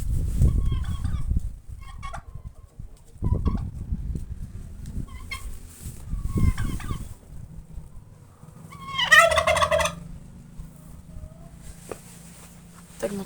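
Turkeys and chickens gobble and cluck close by in a yard as thrown apples are eaten, with a burst of loud gobbling in the middle and scattered clucks and pecking noises throughout.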